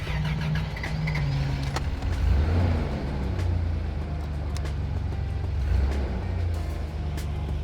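A 1988 Toyota Land Cruiser FJ62 drives along with a steady, loud, low engine rumble and a broadband road roar, rising slightly in the middle and staying continuous from start to finish.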